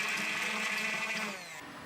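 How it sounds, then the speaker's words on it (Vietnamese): Handheld stick blender whirring through fresh strawberries, a steady high motor whine with a gritty churning edge, close and continuous, easing slightly near the end. "Dâu tây tươi thì mình sẽ dùng máy xay sinh tố cầm tay để xay nhỏ."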